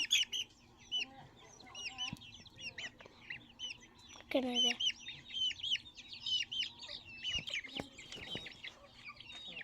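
Many Bhimavaram country-breed chicks cheep and cluck close by, a busy, overlapping chorus of high-pitched calls.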